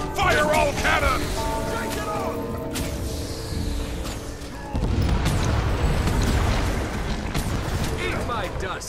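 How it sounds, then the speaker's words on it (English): Cannons fire during a Guild Wars 2 player-versus-player battle at a captured dock: heavy booms and rumbling blasts roll through dense game noise for about nine seconds, with voices talking over the action. "Fire all cannons!"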